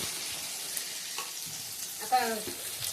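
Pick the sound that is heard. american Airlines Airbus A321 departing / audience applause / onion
onion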